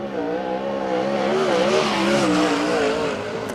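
410 sprint car on a qualifying lap at a race track, engine howling loud and steady at high revs, pitch rising and falling slightly as it powers through the corners.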